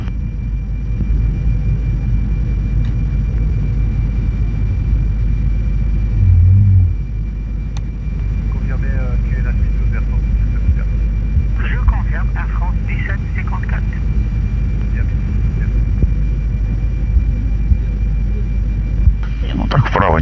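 A Russian airliner taxis at an airport after landing, heard as a loud, continuous low engine rumble and drone close by, with people talking and radio chatter over it.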